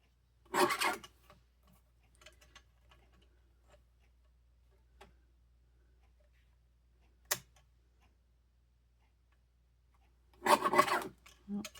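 Paper being trimmed for a card: two short rasping cuts, one near the start and one at the end, with a single sharp click in between and quiet gaps around them.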